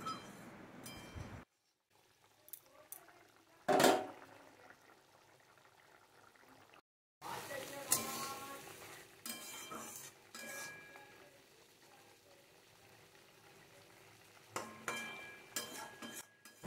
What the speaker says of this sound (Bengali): বেশ ভালো করে এখন আমি নাড়িয়ে চাড়িয়ে নিচ্ছি।